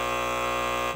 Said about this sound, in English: she gets the buzzer every time